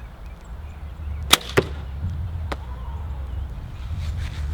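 An arrow shot from a hunting bow strikes a target, two sharp close snaps followed by a fainter click, then quiet outdoor background.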